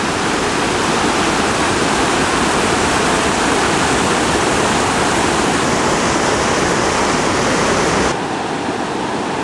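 Floodwater in Tanque Verde roars loudly and steadily down a driveway, a dense unbroken rush like a torrent, easing slightly in the final second.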